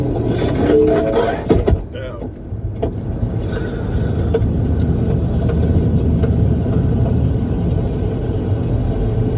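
A truck engine idles with a low, steady rumble that continues throughout, while people talk and a few clunks and knocks sound near the start.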